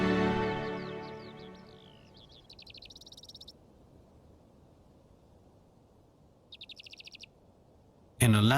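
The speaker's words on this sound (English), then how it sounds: "In a land with no trees, even birds which usually nest in lofty heights are born and raised on the ground." Ground-nesting birds in open, treeless country give two short bursts of rapid, high trilled chirps, with a voice speaking at the very start and a quiet background between calls.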